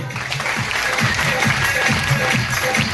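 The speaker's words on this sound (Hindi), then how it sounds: "इतनी तालियां खूबसूरत जबरदस्त तालियां" An audience at a business networking event claps steadily, a thick and even crowd applause that holds for the full few seconds, with a low murmur of voices underneath.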